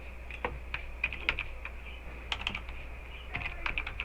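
Sporadic keystrokes on a computer keyboard, a few quick taps then pauses and another short burst, close and fairly quiet over a steady low hum, while entering a variable label in R code.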